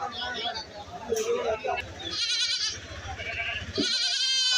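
Goats tethered at a large Kerala goat market bleat in quavering calls close by, rising over someone talking and the murmur of the busy market.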